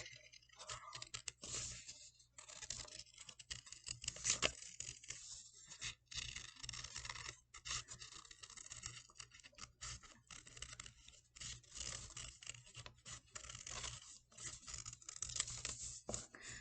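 Scissors cutting through folded paper for puppet feet, producing a steady run of soft snipping and rustling close by with no talk.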